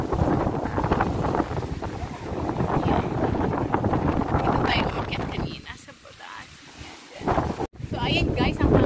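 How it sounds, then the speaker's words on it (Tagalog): Strong wind at a beach resort buffets the microphone in heavy, roaring gusts while a person talks over it, with a brief lull before the blustering returns. "Malakas yung hangin."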